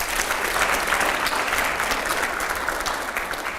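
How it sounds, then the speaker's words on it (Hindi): Audience applause, a dense steady clatter of many hands clapping, loud and sustained throughout with no voices over it. "अगले सवाल के लिए जोरदार तालियां हो यहां पर"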